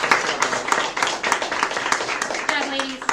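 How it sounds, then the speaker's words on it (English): Scattered clapping in a classroom during a high school cosmetology hair show, light and somewhat uneven, heard alongside talking. "Let's get some more applause here in the classroom."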